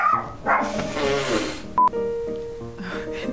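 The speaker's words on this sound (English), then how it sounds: "Sorry, I had to burp." A long, croaky burp up close, then a short electronic beep and a lingering low, rumbling tail.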